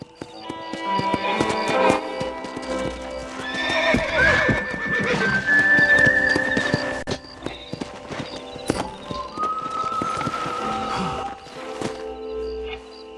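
Horse whinnies ring out over steady hoof clip-clops in Red Dead Redemption, with game music and ambience layered underneath.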